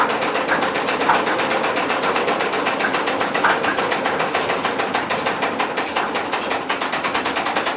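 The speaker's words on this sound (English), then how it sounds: "what this engine is, it starts on gas, and I'll switch it over to diesel" A historic flour mill's old engine, started on gas and switched over to diesel, runs with a fast, steady mechanical clatter of ticking, ratchet-like beats, loud and close without pause, with no voices over it.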